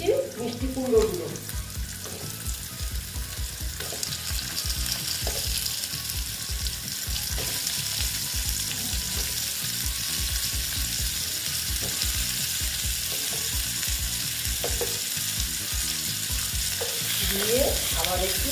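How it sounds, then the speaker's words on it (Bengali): Sweet pumpkin pieces frying in a pan while being stirred, a continuous close sizzle broken by regular scraping strokes of a spatula, with no talking. "দেখো, এখন আমি দিয়ে দিচ্ছি মিষ্টি কুমড়োগুলো।"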